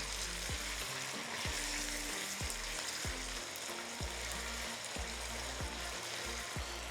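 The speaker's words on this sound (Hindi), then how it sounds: "हमारा चिकन काफ़ी हद तक फ्राई हो चुका है।" Chicken fries in a pan for shahi korma with a steady, close sizzle. Low scraping strokes from stirring repeat at regular intervals throughout.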